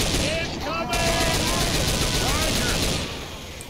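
Turret machine gun fire from the video game Left 4 Dead rattles in a fast, continuous burst at close range and stays loud for most of the clip.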